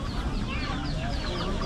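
A rooster at the Langarud Wednesday market in Gilan, northern Iran, clucking amid continuous busy market noise and nearby chatter, the bird's calls moderately loud against the crowd.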